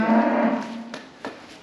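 A heifer on a farm gives a loud, close, drawn-out moo that fades, followed by a couple of faint knocks.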